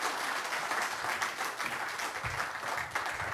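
Audience applause at an IFOAM Organics International 50th anniversary conference, a steady dense wash of clapping filling the whole stretch while a speaker briefly talks over it.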